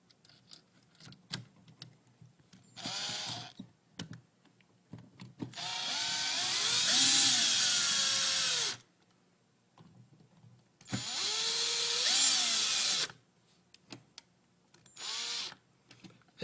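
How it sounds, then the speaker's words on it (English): A power screwdriver tightens the screws on a wall outlet receptacle in several bursts of motor whine, two long and two short, separated by quiet gaps with light handling clicks. "tighten your screws"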